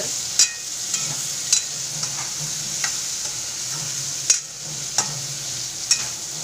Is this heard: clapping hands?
no